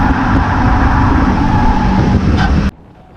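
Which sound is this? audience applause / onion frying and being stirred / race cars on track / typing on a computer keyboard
race cars on track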